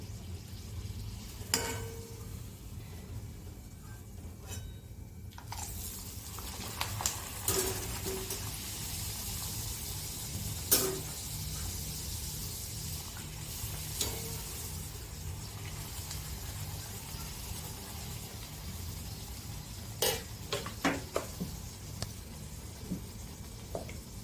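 Spicy masala puri deep-frying in hot oil over a lowered gas flame, a steady low sizzle and bubbling running throughout with occasional sharper crackles and stirring clicks, fairly quiet and continuous with no talking.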